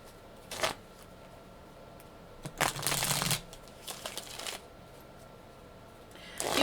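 Tarot cards being shuffled in several short riffling bursts, close and crisp, with quiet pauses between them.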